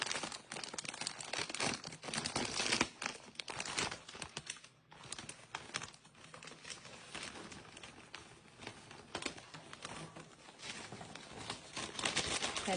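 A crinkly snack package wrapper is torn and opened by hand, giving a long run of close, rustling crackles and crinkles that swell and fade in uneven bursts, with a brief pause midway.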